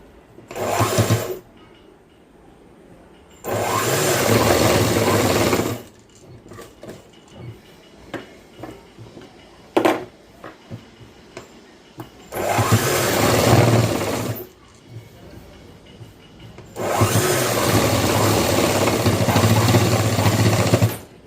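A sewing machine stitches a boys' school uniform shirt, running in four loud, steady bursts of several seconds each, with quieter pauses between them.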